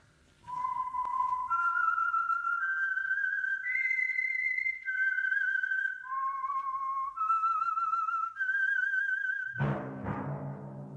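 A person whistles a clear, slow melody of sustained notes stepping up and down, alone and close, ending with a sudden rough burst of noise, from a 1947 old-time radio mystery broadcast.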